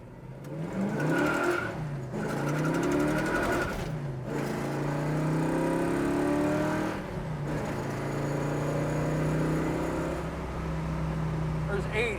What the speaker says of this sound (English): This car rips. You can bust the tires loose in every gear if you want to.